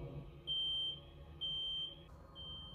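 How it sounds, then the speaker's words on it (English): An ankle monitor bracelet gives three long, high electronic beeps at a steady rhythm, each lasting about half a second, over a low background hum. "it's just the ankle bracelet going off."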